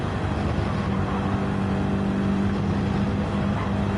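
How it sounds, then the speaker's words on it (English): Car engine in the racing game Gran Turismo 7, lapping Trial Mountain in qualifying; a steady, loud continuous engine drone with a sustained tone and no talk. "Let's hear that engine purr."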